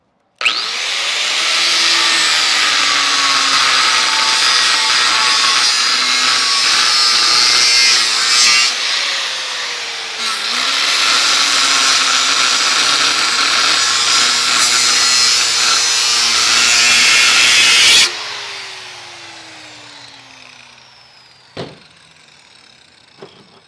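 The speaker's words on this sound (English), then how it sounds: "we're gonna cut down into these welds and try to pop this out a little bit" A power tool grinds loudly and continuously through the welds of a rear bumper on a Lexus GX 460/470, in two long sustained passes separated by a brief pause, then spinning down to quiet with a couple of clanks.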